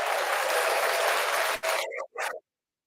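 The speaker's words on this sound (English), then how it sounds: "Let me go ahead and give them a round of applause" Applause for a team's first win, a dense burst of clapping that runs loud and steady, then cuts off abruptly with a brief trailing fragment.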